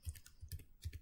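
Command being typed on a computer keyboard for network switch port setup, a quick run of close, crisp keystrokes in small clusters.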